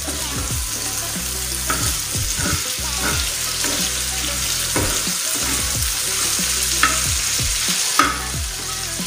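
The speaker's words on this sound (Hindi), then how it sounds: "इसको 2 मिनट तक हाई फ्लेम पे अच्छी तरह फ्राई कर लेंगे।" Kaleji pota with mint fries on high flame, a loud continuous sizzle with rhythmic scraping stirs and a few sharper clinks of the spoon against the pan, close up and without talk.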